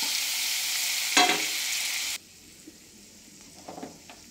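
Butter and a little oil sizzling in a kadai for paneer bhurji, a loud, steady hiss with a brief stirring scrape, then it cuts away to quieter kitchen clatter.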